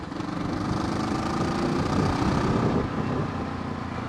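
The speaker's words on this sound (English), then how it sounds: "So you can probably hear the bike's quite loud." Kawasaki ER6f Ninja 650R motorcycle with a cracked exhaust, its engine droning loudly and steadily with a rough, raspy low-end rumble throughout, no voices over it.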